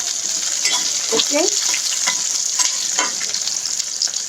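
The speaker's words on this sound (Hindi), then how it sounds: "ये देखिए थोड़ा सा जैसे ही ट्रांसलूसेंट हो जाए अनियन, बहुत ज़्यादा फ्राई मत करिएगा" Chopped onions frying and being stirred in a pan for restaurant-style badami paneer, a steady close sizzle with scraping stir strokes throughout, a brief spoken word near the start.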